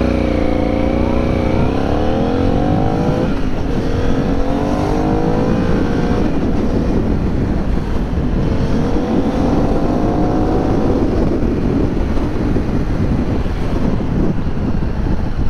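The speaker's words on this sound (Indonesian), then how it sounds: "Tapi motor ini torki banget. Jadi khas V-twin engine." A V-twin motorcycle engine revs hard and close, rising and falling in pitch through repeated throttle sweeps, with heavy wind buffeting the microphone throughout.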